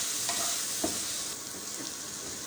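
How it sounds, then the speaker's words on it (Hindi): Chicken and spices frying in a pan as they are cooked down, a dense, steady sizzle with a couple of soft stirring scrapes, close and without speech. "अब ये सारी चीज़ें मैंने डाली और अच्छी तरह से भूनते हैं।"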